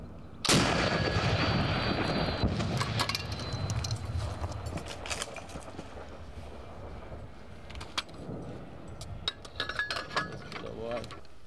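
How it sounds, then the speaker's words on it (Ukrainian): Artillery and mortar fire in the battle for Bakhmut: a loud blast opens, followed by rumbling echoes and scattered sharper reports, with mechanical clanking and a few bursts of activity later on. "Постріл!"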